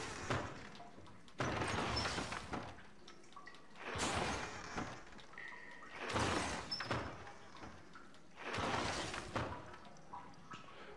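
Doors pulled by the Accio spell in the Harry Potter Order of the Phoenix video game slide open in four separate sweeping whooshes. Each lasts a second or two, with quiet gaps between, and no one speaks.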